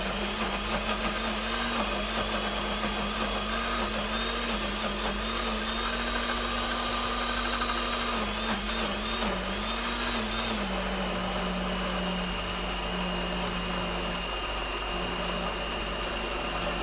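A blender motor whirs steadily for a long stretch, chopping thick celery, its pitch shifting and dipping slightly as it works through the tough stalks; no voices.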